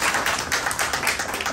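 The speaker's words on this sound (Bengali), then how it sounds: "আমাদের চিফকে শোনার জন্য একটা হাততালি হয়ে যাক সবাই।" Audience applause at a Thanksgiving party celebration for expatriates, a dense and steady wash of many hands clapping together, loud and continuous throughout.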